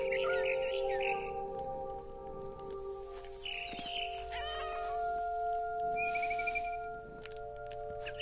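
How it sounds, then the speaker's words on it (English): Soft cat sounds from the video game What Remains of Edith Finch, with brief meow-like calls and light chirps over steady game ambience and tonal background music. "I love the little purring sound effect."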